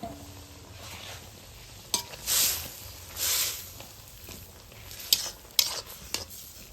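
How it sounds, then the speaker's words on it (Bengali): Fish dropped into a pot of boiling taro curry, with soft bubbling and sizzling, a few sharp clinks of a utensil against the pot, and brief stirring swishes, all fairly quiet and close. "এখন এই যে মাছগুলা দিয়ে দেবো।"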